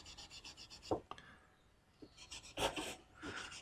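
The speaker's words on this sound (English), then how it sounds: "the polishing of the frets" Fine 4/0 steel wool polishes guitar frets on a neck, making quick, soft rasping rubs in short repeated bursts. The strokes are faint and close, with brief pauses between passes.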